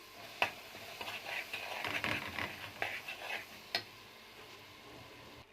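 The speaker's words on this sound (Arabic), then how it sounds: "وهنزل بمعلقتين دقيق وافضل اشوح فيهم" A spoon stirs two spoonfuls of flour into a couple of spoonfuls of oil in a pan for a béchamel, giving soft scraping and light sizzling with occasional sharp taps against the pan.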